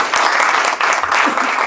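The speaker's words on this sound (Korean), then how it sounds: "그럼 박수로 환영해 주시죠" An audience claps to welcome a professor at a university meeting, a brief burst of dense, even applause close by.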